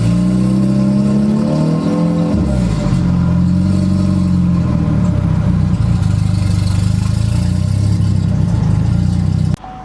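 A built turbocharged four-cylinder car engine running rich on a cheap eBay turbo, a loud, close, steady rumble with rising and falling revs and a rough low drone, cutting off abruptly at the end.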